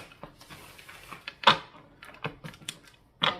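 Tarot cards are shuffled and riffled close by, a quick series of crisp snapping flutters and taps, with a louder slap near the end.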